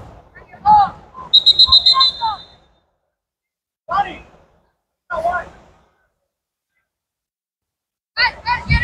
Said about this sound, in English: The referee blew the whistle again